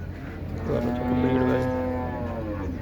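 A single cow at the Mansa cattle market lets out a long, low moo that swells and fades over a few seconds, against a constant background hum of the market.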